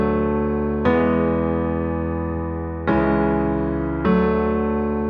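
A plain diatonic pop chord progression moving IV–V–iii–vi, sustained keyboard-like chords struck three times with long ringing decays, clean and alone with no voices.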